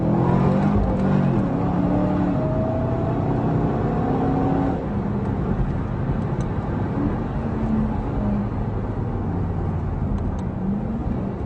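Cadillac CTS-V engine at full throttle on a flying hot lap around Cadwell Park circuit, traction control off, a loud, steady in-car roar with rising and falling revs and gear changes throughout, no voices.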